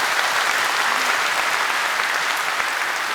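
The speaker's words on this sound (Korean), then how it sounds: "이분들을 위해서 우리 박수로 환영하겠습니다." A crowd at a Korean church thanksgiving service for the 140th anniversary of Korea–US relations applauds to welcome guests, a loud, dense and steady roar of clapping with no talk.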